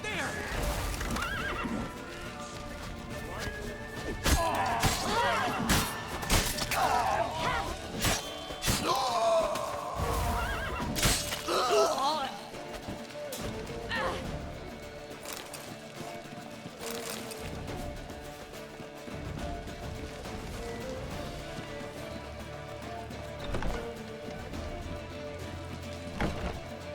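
Horses whinny repeatedly and gallop with clip-clop hoofbeats during a video game chase scene, the neighs loud and close over rain-like noise, with shouting voices mixed in.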